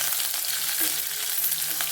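Green chili, crushed garlic and curry leaves fry in a pan over low heat, giving a steady, close, continuous sizzle with no talking.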